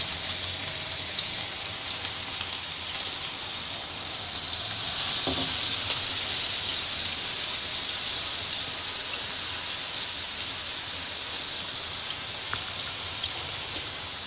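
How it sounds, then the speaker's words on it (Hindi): Beef chapli kababs fry in hot oil in a pan over a low flame, giving a steady, dense sizzle with a brief clatter partway through. "अब इसमें हम कबाब रखेंगे और फ्राई कर लेंगे।"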